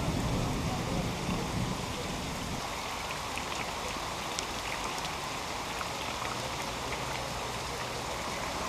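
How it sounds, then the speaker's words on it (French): Heavy tropical rain pours in Thailand, a dense, steady hiss of drops hitting the ground and surfaces, loud and continuous throughout with no voices. "avoir la pluie comme ça, de temps en temps"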